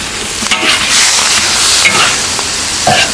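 Fish maw and roe stir-fry with chopped chili in a wok, a loud, close sizzle broken by scraping, stirring strokes and clatter over a few seconds.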